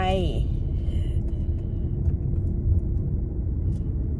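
A car pulls away and drives off, its engine rumbling steadily and close throughout, with a voice heard briefly at the start.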